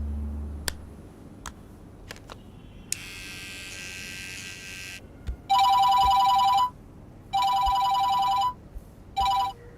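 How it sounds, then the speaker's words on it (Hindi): A telephone ringing with repeated incoming calls from the same unknown number: after some faint clicks and a buzzing tone, loud electronic ring bursts come three times in a row, cut off between calls, with no talking. "कुछ देर से एक ही नंबर से कॉल पे कॉल आ रहे हैं।"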